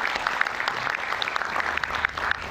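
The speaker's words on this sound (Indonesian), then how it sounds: "Sekali lagi kita berikan tepuk tangan yang meriah untuk Prof." An audience claps at an Indonesian political talk event, lively applause with some distinct nearby claps popping out of a dense, continuous crowd wash.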